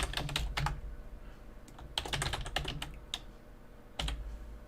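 Typing on a computer keyboard, quick clusters of close key clicks in short bursts with brief pauses, no talk over them.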